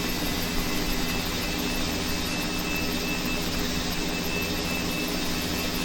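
Steady, dense engine drone of a small Mini-500 helicopter in flight in a flight simulator game over Easter Island, continuous and unchanging, with no voices.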